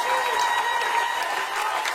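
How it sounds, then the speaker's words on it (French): Church congregation applauding and cheering during a French-language worship service, a steady dense wash of clapping with voices mixed in, fairly loud throughout. "Donnons une acclamation au Seigneur."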